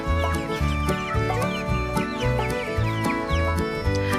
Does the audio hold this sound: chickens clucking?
yes